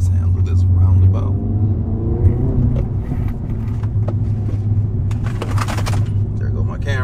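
Acura Integra Type S engine hums low and steady while driving, a continuous rumble with rising revs, a few clinks of loose items rattling in the cabin near the end.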